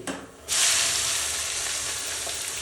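Chopped onion, cumin seeds and asafoetida hit hot oil for Gujarati brinjal olo, bursting into a loud, close sizzle after a half-second of quieter hiss, then crackling steadily without pause.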